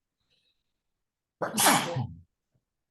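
A single loud, close sneeze bursts out after a moment of near silence, lasting under a second, set within a Spanish-language grammar lesson.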